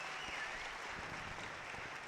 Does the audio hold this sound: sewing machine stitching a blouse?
no